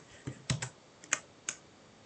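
Computer keyboard typing while coding, about five separate sharp key clicks spaced irregularly, including a Ctrl+Space shortcut press, close and fairly quiet with no talking.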